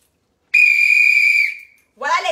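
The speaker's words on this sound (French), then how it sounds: "voilà les sifflets" A protest whistle blown once in a long, shrill, steady blast of about a second that fades out, followed after a short pause by a voice speaking.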